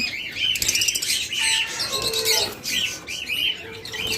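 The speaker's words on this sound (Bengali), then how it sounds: "এরপর এখানে রয়েছে চমৎকার এক জোড়া ইয়েলো কলার লাভবার্ড।" Pair of yellow collar lovebirds in a cage, heard close up with rapid high chirps and bursts of fluttering wingbeats that continue throughout.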